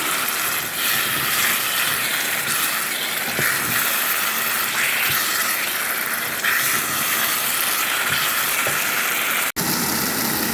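Dried fish (karuvadu) frying in a hot pan for a Sri Lankan dry fish curry, giving a steady, dense sizzle and crackle that runs unbroken throughout, with no voices.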